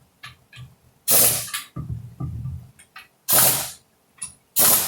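A hand ratchet tightens the outer transmission pan bolts, giving close, crisp bursts of rapid clicking, loud strokes alternating with quieter ticking as the handle swings back and forth.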